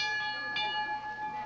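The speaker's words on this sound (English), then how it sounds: "The sweet sound of the bell." A bell is rung at a 1983 televised firehouse charity auction to mark a table as closed, giving a sustained ringing tone with steady harmonics and a brief second strike, fairly faint against a busy room.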